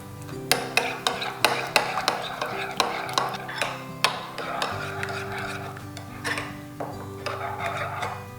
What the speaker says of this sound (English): Salt, pepper, and then stir it all together.